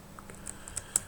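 Typing on a computer keyboard during a coding tutorial, a few light, close key taps spaced irregularly over a quiet background.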